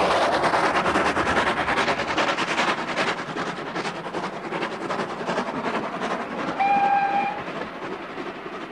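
A train rolls along a railway track, its rumbling clatter steady and loud throughout, with a brief whistle tone near the end and no speech.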